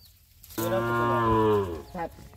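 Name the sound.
Sahiwal bull calf mooing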